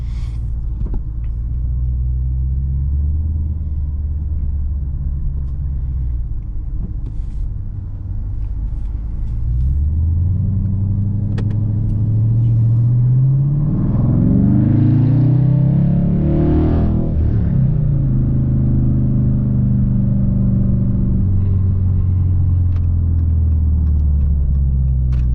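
A 2018 Dodge Charger R/T V8 with a 3-inch exhaust drives along, a deep steady engine rumble that swells as it revs midway, then settles back to a low cruise.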